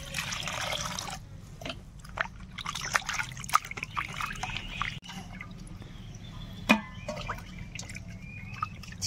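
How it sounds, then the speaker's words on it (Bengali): Tap water trickles and splashes steadily while raw chicken is washed by hand in a kitchen sink, with soft handling clatter and a brief knock midway. "চিকেনটাকে ভালো করে ধুয়ে নেব।"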